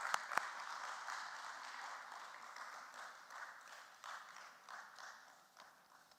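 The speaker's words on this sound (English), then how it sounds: "let's give a huge round of applause for the family, the Parekh family" Applause at a stock exchange listing ceremony at BSE for the Parekh family of Omnitech Engineering Limited, quiet and steady, with a couple of sharp claps at the start.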